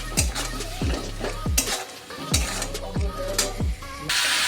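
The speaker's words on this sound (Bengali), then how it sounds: "এরপর মশলাগুলো দিয়ে ভালোভাবে কষে নিতে হবে" Cumin and coriander powder spices being stir-fried in a pan, loud rhythmic scrapes and knocks of a spatula every half second or so over a constant frying sizzle.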